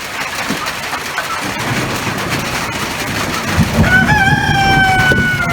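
A rooster crows on a rainy farm day, a clear drawn-out call near the end over the steady hiss of rain.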